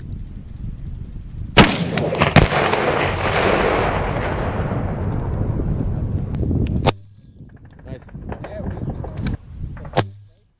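An AT4 rocket launcher fires during a military live fire exercise, a sharp blast followed by a long rumbling roar that fades, then a few more sharp bangs and distant impacts, with faint voices.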